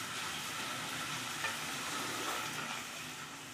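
Masala with tomato paste frying in oil over a medium gas flame, giving a steady, dense sizzle with faint stirring throughout, close and alone with no voices.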